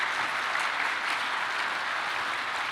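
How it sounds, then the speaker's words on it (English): Audience applause at a PAX East 2023 Q&A panel, a dense, even wash of clapping from a crowd, sustained at moderate volume from start to finish. "your cheers and your applause was very much appreciated"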